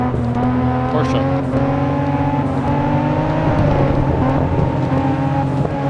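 A green Toyota Supra in the racing game Assetto Corsa EVO drives with a steady engine drone and shifting harmonic tones, loud and continuous, with some short clicks on top.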